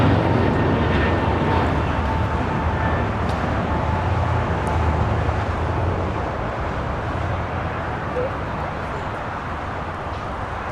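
An ANA Dreamliner airliner on the south side of LAX powers up for takeoff, a loud broad roar of jet engines that holds steady and then eases slightly, with distant traffic noise underneath.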